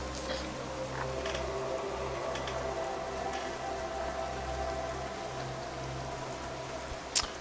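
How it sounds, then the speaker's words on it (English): Continuous rain in World of Warcraft Classic at Tearsfog Lakes, a steady pattering hiss with a low rumbling undertone, unbroken for several seconds, with a brief sharp click near the end and no talking. "It is raining in Tearsfog Lakes"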